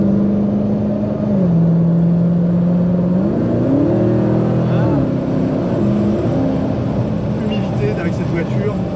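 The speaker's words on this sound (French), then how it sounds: "il faut que les gens sachent, tu vois, qu'il y a un V8 qui passe" A Dodge Challenger V8 rated at 720 hp rumbles loudly while driving, its engine note rising and falling as the revs climb and settle through shifts, with a voice talking over it.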